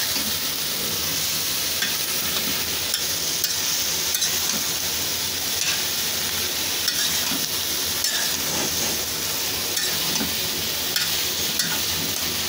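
Pieces of bread mixed with other ingredients in a frying pan over medium heat, a steady sizzle and hiss running throughout with frequent soft scraping stirs, close and even in loudness.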